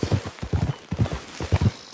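Steady clip-clop of horse hooves in Red Dead Redemption 2 at a trotting rhythm, close and fairly loud, with no talking.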